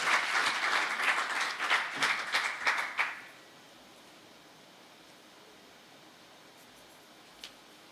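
A closing-ceremony audience at the EU-GIZ Tekki-Fii project breaks into loud applause, dense clapping that lasts about three seconds, then stops abruptly into quiet room tone with a single faint knock near the end.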